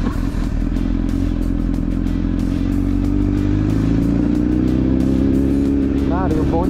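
A motorcycle engine idles steadily and loudly up close, with a constant low rumble and some clatter throughout.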